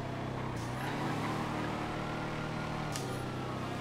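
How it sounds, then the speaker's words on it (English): A steady car engine drone in GTA FiveM hums throughout, with the pitch swelling and easing as the car accelerates, heard alone at moderate volume. "Oh, that car sounds so good."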